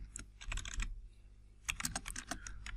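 Typing PHP code on a computer keyboard, two short bursts of quick, close key clicks separated by a brief pause, quiet and without talk.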